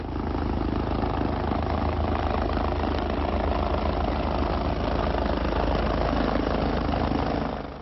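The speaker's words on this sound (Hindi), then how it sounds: "इस शादी में आजकल एक नया मेहमान खुशियों को दोगुनी कर रहा है, वो है हेलीकॉप्टर" Helicopter at a wedding procession in Karnal, its rotor and engine making a loud, steady droning roar that runs unbroken throughout with no talk.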